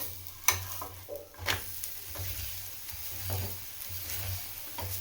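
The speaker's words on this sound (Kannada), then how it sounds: "ಈಗ ಒಂದು ಸೈಡ್ ಪೂರ್ತಿಯಾಗಿ ಬೆಂದಿದೆ, ಇನ್ನೊಂದು ಸೈಡ್ ಈಗ ಬೇಯಿಸ್ಕೊಳ್ಳೋದಕ್ಕೆ ನಾನು ಇದನ್ನು ತಿರ್ವಾಕೊಳ್ತೀನಿ ಮತ್ತೆ" A ragi roti, just flipped, cooks on a hot pan with a steady close sizzle, broken by a couple of short scraping knocks near the start.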